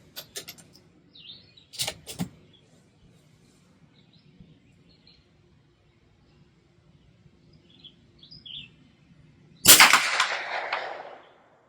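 Sharp, loud .22 LR high-velocity hollow-point rifle shots from Federal ammunition: two close cracks early, then quiet with faint birds, and another loud crack with a trailing noisy tail near the end.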